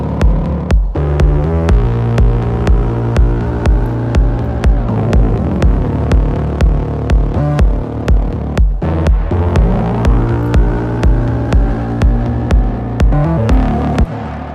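Bass synth patch from the Diva plugin in Ableton with chorus and reverb, a loud throbbing repeated bass note pulsing steadily with sweeping wide filtered tones over it.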